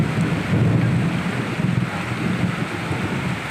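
Heavy rain pours steadily during a thunderstorm, a dense continuous roar with low rumbling underneath and some wind buffeting, with no voices.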